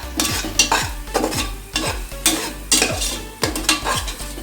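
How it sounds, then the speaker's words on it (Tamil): Spices sautéing in oil for a mushroom thalappakatti biryani, stirred with a spoon that scrapes the pan in a steady run of strokes about every half second over a constant sizzle, close and with no talking. "இது நல்லா எண்ணெயில் வதங்கட்டும் 2 நிமிஷம்"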